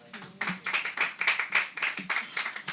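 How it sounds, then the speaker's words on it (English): A small audience at a bookshop poetry event claps, individual hand claps close and distinct in a quick uneven rhythm, fairly light and sparse rather than a full roar. "Another round of applause for Cynthia Abdallah."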